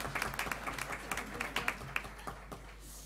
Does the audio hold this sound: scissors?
no